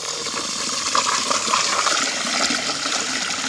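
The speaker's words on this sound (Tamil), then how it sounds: "ஊற வைக்கிட்டு தண்ணி ஊற்றுறோம்." Water rushes in a steady, loud, close gush as it is poured over soaked rice for a white snakehead fish biryani cooked outdoors over a wood-fired stove.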